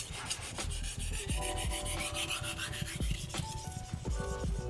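Steady back-and-forth scraping of a knife blade across a whetstone, sharpening the back of a single-bevel edge until a burr rises; rhythmic, close rubbing strokes with no talk, a few faint metallic tings between passes.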